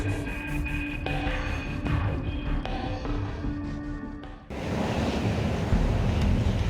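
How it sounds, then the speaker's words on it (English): Strong coastal wind in Wellington buffets the microphone with a continuous roaring rush, growing harsher and louder near the end, with no voices. "Windy Wellington is living up to its nickname"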